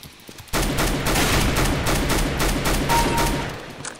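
Rapid automatic gunfire in Counter-Strike: Global Offensive during a one-on-one deathmatch, a dense burst of loud shots starting abruptly and rattling on for about three seconds before tapering off.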